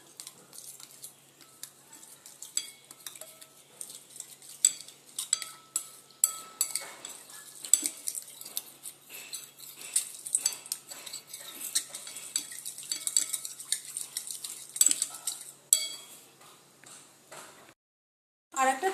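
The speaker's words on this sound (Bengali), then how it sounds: "2 চা চামচ কর্নফ্লাওয়ার নিয়ে নিলাম। এটা এবার জলের সাথে গুলিয়ে নেব।" Metal spoon stirring cornflour into water in a small bowl or cup, a dense run of light clinks and scrapes against the vessel for most of the stretch, close up, with no talking, ending in a brief pause.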